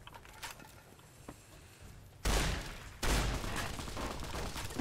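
Gunfire in Fallout New Vegas: quiet early on, then two loud close blasts of rapid shooting erupt and keep rattling to the end.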